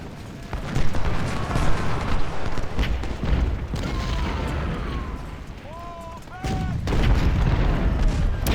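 Cannon fire on a Civil War battlefield in Ultimate General: Civil War, heard as heavy booms over a constant battle din that includes whistling, rising tones, with a louder volley near the end.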